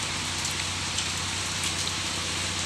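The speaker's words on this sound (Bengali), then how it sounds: "5ই অক্টোবর আজকে অনেক বৃষ্টি হতেছে" Heavy rain on an early October day pours down in a steady, dense hiss. It stays even and close throughout, with patters of drops on surfaces and no voices.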